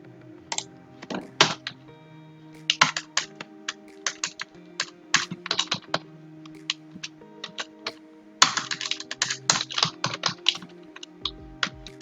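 Fast computer-keyboard typing into a text area of an HTML form, close and crisp, with irregular bursts of clicks and short pauses throughout; no one speaks.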